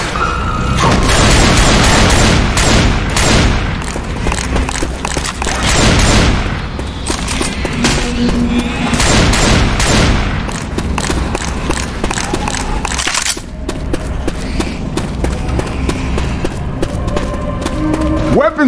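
Left 4 Dead 2 gunfire rattles continuously in dense, overlapping bursts and booms, loud and close throughout, with voices talking over the shooting.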